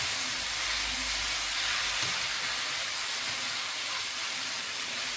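Capsicum stir-frying in a pan for devilled chicken gives a continuous loud hiss and sizzle, close and steady throughout, with no voices.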